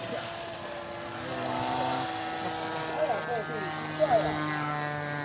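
A small RC airplane buzzes overhead with a steady, high-pitched electric motor whine that shifts in pitch as it passes, while several people talk and exclaim nearby throughout.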